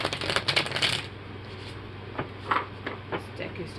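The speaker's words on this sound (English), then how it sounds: "This deck is difficult to shuffle." A tarot card deck being shuffled by hand, close and crisp riffling bursts at the start, then scattered softer card flicks and taps, with no talking.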